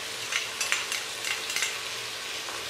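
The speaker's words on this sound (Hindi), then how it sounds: "अब मैं इसको अदरक लहसुन के पेस्ट के साथ भूनूंगी।" Chicken with ginger garlic paste being stir-fried in a pan for biryani, with steady sizzling and scraping stirs at close range, no voices.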